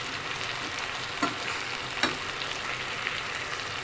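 Green onions being stirred into potato sabzi frying in a pan, a continuous gentle sizzle broken by a few soft scrapes of the spoon.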